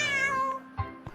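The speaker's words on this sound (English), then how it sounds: "C for cat." A cartoon cat gives a clear, drawn-out meow with a rising then falling tone, followed by a couple of short soft noises, loud and close with no talk.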